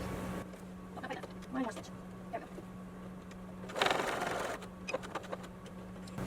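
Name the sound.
sewing machine stitching fabric of a tote bag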